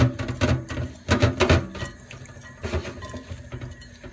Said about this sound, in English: Add a little bit more water to it.